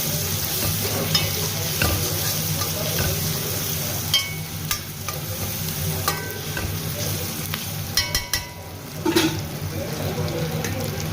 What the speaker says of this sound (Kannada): ಇದಕ್ಕೆ ಹಸಿಮೆಣಸು ಮತ್ತು ಬೆಳ್ಳುಳ್ಳಿನ ಹಾಕ್ಕೊಳ್ತೀನಿ. ಇದನ್ನು ಕೂಡ ಚೆನ್ನಾಗಿ ಹಾಕಿ ಫ್ರೈ ಮಾಡಿ